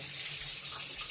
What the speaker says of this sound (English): a scullery style faucet where you've got on one side a nice strong stream of water coming out